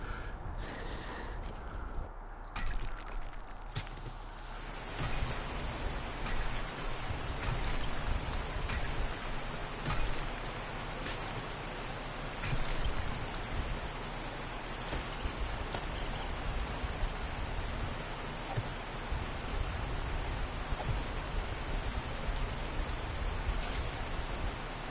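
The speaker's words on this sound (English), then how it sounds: "I'm freezing to death because it's raining" Rain falls steadily in the survival video game 7 Days to Die, a constant close hiss of drops with faint scattered taps, continuing unbroken without any talk.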